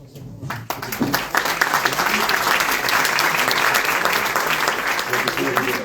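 Audience applause rises quickly after a brief pause at a wine conference session in Avignon, a dense, even round of clapping from the crowd that holds steady throughout.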